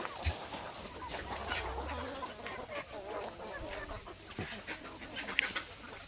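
Chickens on a crowded poultry farm housing six to seven hundred birds cluck faintly at a distance, with scattered soft calls and rustling over a quiet background.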